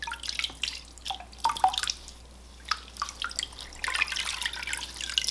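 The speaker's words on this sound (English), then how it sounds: "It's just straight tap water." Cold tap water dripping and splashing into a basin while dyeing yarn with lemon juice, irregular close drips and small trickles, fairly quiet, with no talking.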